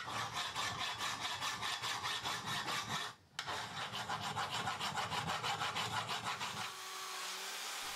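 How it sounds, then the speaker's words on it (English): Rhythmic rasping strokes of a hacksaw and then a file working over a metal cylinder casting to remove flashing, steady and close with a brief pause near the middle, no voices. "So I tackle that first with a hacksaw, before moving on to a file to clean up all those bits of flashing."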